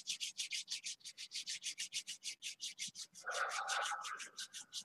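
Palms rubbed briskly together in a Reiki and qigong session, a rapid run of even rhythmic swishes close to the listener, about five per second, then a brief steadier rub with a faint tone under it.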